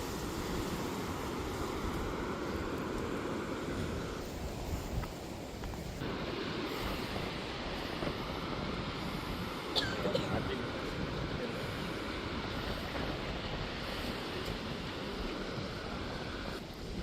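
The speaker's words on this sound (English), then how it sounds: "I love to just sit and listen to the ocean." Ocean waves wash onto the shore under a strong, gusty wind at a seaside spot, a steady roaring surf with wind buffeting the microphone throughout.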